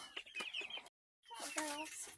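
Mother chickens cluck and squawk agitatedly near a coop with new birds, loud close bursts that break off briefly and then resume in a busier, higher burst of calls.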